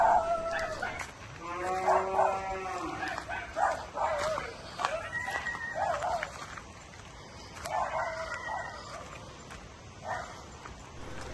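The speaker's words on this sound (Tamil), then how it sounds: "பக்கத்து வீட்டு நாய்க்கும் ராக்ஸிக்கும் எப்போ பார்த்தாலும் பிரச்சனை தான்" A neighbour's dog barks repeatedly in irregular bursts outdoors, moderately loud and somewhat distant, with a gap partway through before more barking.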